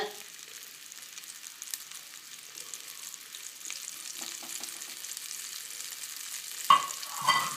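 Ground chana frying and being stirred in a hot pan for a Srirangam channa halwa, a soft steady sizzle with scraping stir strokes throughout, growing louder near the end.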